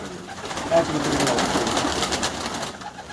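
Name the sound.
pigeons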